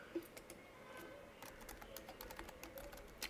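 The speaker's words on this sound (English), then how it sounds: "Go ahead and type it in here." Soft, quick key presses on an MC9190 handheld keypad while a Wi-Fi password is entered, faint and close, in an irregular tapping rhythm.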